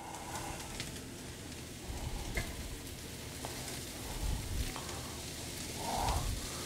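Shallots seasoned with salt and black pepper sauté in a pan, giving a quiet, steady hiss with a few soft bumps and no talking.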